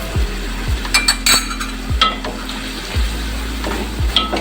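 Gravy of chili sauce and vinegar cooking in a pan: a soft steady sizzle with repeated low clanks and scrapes of a utensil against the pan, close, with no talk.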